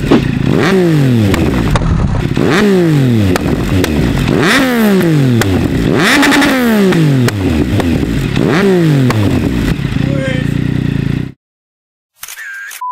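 A Yamaha MT-09 motorcycle revs hard again and again, about six sharp rising-and-falling blips in a steady rhythm, loud and close with crackling exhaust pops, before cutting to silence near the end.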